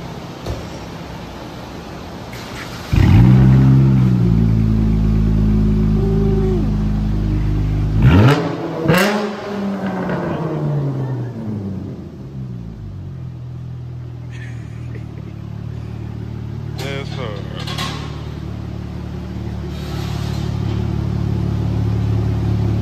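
A straight-piped V6 Dodge Charger GT with a 5-inch tip exhaust idles with a low rumble, then gives two sharp, loud revs that rise and fall before settling back into a deep, steady drone.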